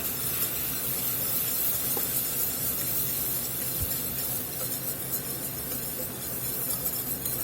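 Flour stirred into a stick of melted butter over medium heat for a turkey giblet gravy roux, giving a steady close sizzle and soft hiss throughout, with a faint scrape or two and no talk.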